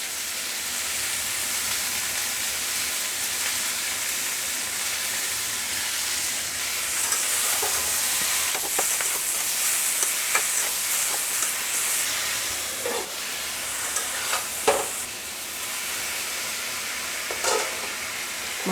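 Mixed vegetables stir-fry in a pan, giving a loud, steady hissing sizzle with intermittent scraping and clattering stirs that grow busier toward the end, close and continuous.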